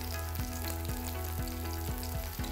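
Vegetarian fish-style fry pieces crackle and sizzle in hot oil, with soft rhythmic scrapes or turns of a utensil at regular intervals.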